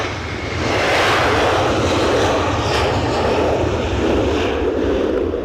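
A Ryanair airliner departs Edinburgh Airport for Rome during a storm, its engines giving a loud, steady, broadband roar that holds without letup from start to finish.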